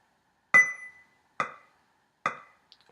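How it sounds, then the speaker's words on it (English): A metronome set to 70 beats per minute gives three sharp, evenly spaced clicks with nothing else playing. "Now I'm gonna use a metronome."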